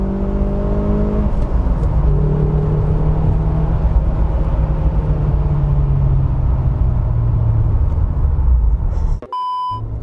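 A Mercedes-Benz 190E Evo 2, the DTM homologation sedan, revving hard from inside the cabin, its engine note climbing and sustained loudly for about nine seconds before cutting off abruptly, followed by a few electronic beeps.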